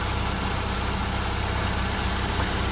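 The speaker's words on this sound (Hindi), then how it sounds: "पुराने मॉडल इंजन ठीक है।" An older-model Toyota Hiace Grand Cabin van engine idles, a constant low rumbling drone that stays steady and fairly loud throughout, with no voices heard.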